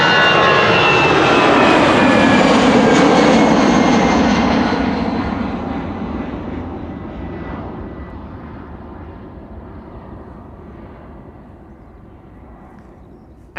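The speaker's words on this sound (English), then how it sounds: "And Emirates Sky Cargo is also taking off." An Emirates SkyCargo jet takes off at Amsterdam Schiphol with a loud, broad engine roar. It stays strong for a few seconds, then slowly fades as the aircraft climbs away into the distance.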